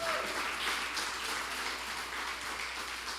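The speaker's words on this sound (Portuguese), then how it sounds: "Dá uma salva de palmas para Jesus aí." Church congregation at a Sunday celebration service gives soft, distant, continuous applause, a faint even patter of many hands throughout.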